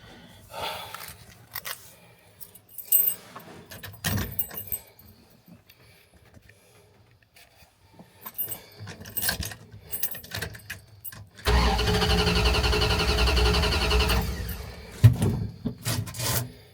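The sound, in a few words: 1982 Dodge truck engine being started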